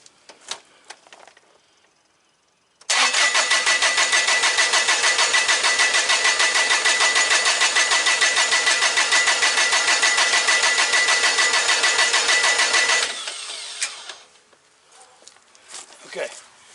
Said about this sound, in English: So now we're going to turn it over and see if we get fuel squirting out the injector